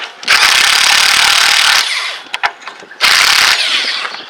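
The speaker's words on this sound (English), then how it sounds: "This is a good time to put your axle nut back on backwards and tighten it down just a little bit here." Ratchet spinning an axle nut onto a Chevy S-10 during a lower ball joint replacement: one long, loud whirring burst, a few faint clicks, then a second shorter burst.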